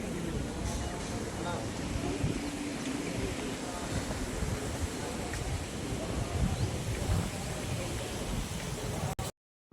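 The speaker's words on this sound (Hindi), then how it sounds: "देखो हवा की आवाज़ सुनिए कितनी ज़बरदस्त।" Strong, cool wind buffets the microphone on a high hilltop temple site near Jaipur, overlooking a highway and airport. It makes a dense, steady roar that lasts almost the whole time and cuts off abruptly at the end.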